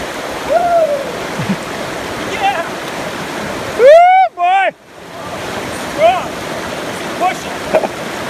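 A river rushes steadily and loudly during a hiking crossing, a constant broadband wash of flowing water. Several people shout and call out over it, and the roar briefly drops away midway.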